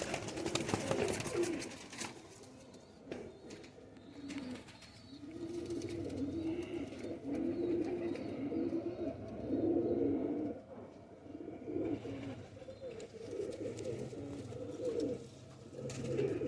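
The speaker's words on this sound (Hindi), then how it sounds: "सब चूं चूं करते बच्चे" A flock of High Flyer pigeons with their chicks in a loft, soft repeated cooing and chirping from several birds nearby, rising and falling continuously with a few faint background noises.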